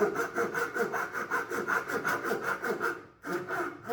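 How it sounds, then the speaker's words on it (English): Bandsaw cutting through two pieces of wood taped together, following marked lines for a saw till holder; a steady close rasping whir with rhythmic pulses, pausing briefly near the end before the cut resumes. "taped the 2 together before following those lines on the bandsaw"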